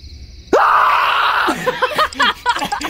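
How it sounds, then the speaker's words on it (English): A loud, sustained scream bursts in after a half-second of quiet during a Halloween scary-story reading with plush toys, holding for about a second before breaking into choppy, wavering vocal cries and groaning sounds. "that scream was terrifying"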